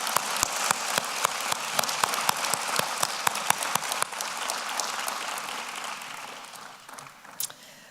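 A large awards gala audience applauds caregivers, dense sustained clapping from many hands filling the room, fairly loud at first and tapering gradually toward the end.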